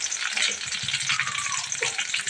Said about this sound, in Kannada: ಬೆಳ್ಳುಳ್ಳಿ ಫ್ರೈ ಆದಮೇಲೆ ಇವಾಗ ಕರಿಬೇವು ಸೊಪ್ಪು ಹಾಕ್ಕೊತಾ ಇದ್ದಾರೆ